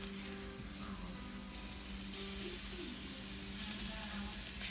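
Ground beef fries in a pan with a steady, close sizzle, while a spoon scrapes and stirs to break it up, faintly layered over the hiss.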